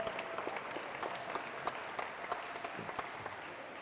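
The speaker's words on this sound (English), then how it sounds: "how about a round of applause for everybody who organized this event?" An audience applauds at a community celebration inside an ice rink training center, steady clapping from many hands sustained for several seconds with no speech over it.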